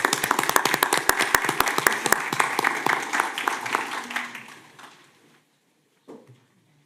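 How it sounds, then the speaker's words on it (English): Audience applause at a city commission meeting, brisk close clapping from a modest crowd that thins out over about five seconds and stops, followed by a brief pause and a single faint sound. "Can we give them a round of applause for all the work that they're doing?"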